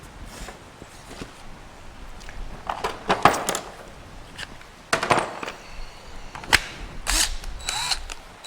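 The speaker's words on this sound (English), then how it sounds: "gonna watch me drill some holes" A cordless drill bores holes for a 1967 Chevelle console, with short whirring bursts and clicks scattered between quieter handling noises in a workshop.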